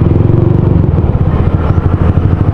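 A Yamaha Sniper 155 motorcycle fitted with a TRC exhaust pipe, heard close and loud, its engine chattering with rapid, uneven pops and crackles through the pipe.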